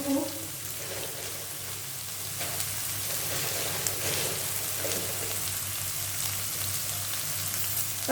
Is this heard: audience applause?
no